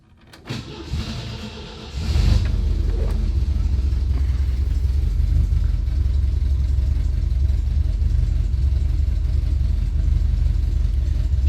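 A 1975 MGB's engine cranks briefly, catches and settles into a loud, steady low idle that continues close by for the rest of the stretch, with no one talking.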